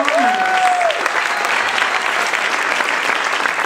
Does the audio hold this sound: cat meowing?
no